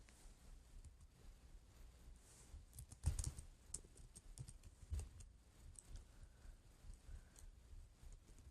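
Quiet, sparse keystrokes tap on a computer keyboard with some faulty keys, a few sharper clicks standing out from a faint background hiss.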